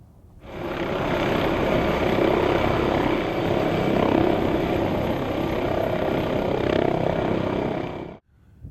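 An MD902 Explorer NOTAR helicopter hovers, a loud, broad, steady rotor and turbine roar that rises quickly, holds for several seconds and then cuts off abruptly.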